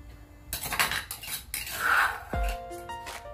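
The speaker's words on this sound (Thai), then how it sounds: "จะเอาพริกแกงใส่ลงไปเลยนะคะ" Curry paste is spooned into a cooking pot for a Thai home-style curry with grilled fish, giving close metallic clinks and scrapes of a spoon against the pot, several quick knocks and a ringing tap near the end, with no talk.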